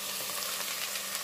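Cut carrots fry in a pan with a dense, even sizzle that holds steady at moderate loudness for just over a second.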